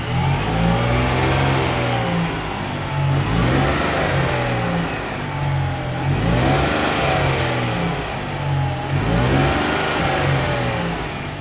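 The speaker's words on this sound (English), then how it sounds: "You can rev it now just a little." A turbocharged car engine on a dyno revs in repeated surges, climbing and falling about every three seconds over a steady loud rumble, close and continuous with no talk.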